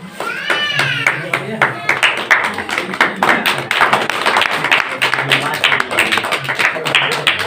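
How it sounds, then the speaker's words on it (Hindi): An audience claps to welcome a garlanding at a public gathering, with scattered, uneven claps building into a steady patter while people talk and call out over it. "किसी का भी माल्यार्पण होता है, इसका तालियों से स्वागत किया जाता है"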